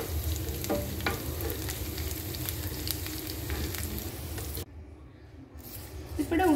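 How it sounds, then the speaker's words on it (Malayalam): Cut green chilli frying with onions and curry leaves in a pan, a loud close sizzle with stirring scrapes that drops out briefly near the end before resuming. "ഈ ഒരു പച്ചമുളക് കട്ട് ചെയ്തിട്ട് കൊടുക്കാം."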